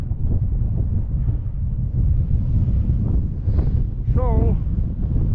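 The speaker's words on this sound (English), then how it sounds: "we're working with like a 12 to 15 mile an hour headwind today" A 12 to 15 mph headwind buffets the microphone of a cyclist riding the American Great Plains, a loud unbroken rumbling roar, with brief voice sounds near the end.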